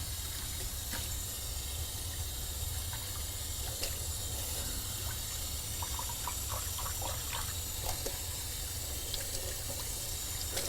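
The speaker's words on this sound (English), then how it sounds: "let me go ahead and rinse out the cereal bowl and get it nice and clean." Tap water runs steadily into a sink as a cereal bowl is rinsed, a constant hissing flow with faint clinks and splashes scattered through it, no one speaking.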